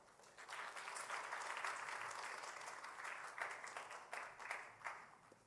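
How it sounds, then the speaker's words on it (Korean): A church congregation at a Friday worship gathering applauds to welcome a missionary to the stage, broad sustained clapping at a soft, somewhat distant level with swells and dips toward the end. "큰 박수로 환영 부탁드리겠습니다"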